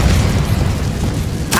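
Incendio fire spell cast in Hogwarts Legacy, a loud, dense, rumbling burst of fiery noise sustained throughout, with a sharp bright crackle near the end.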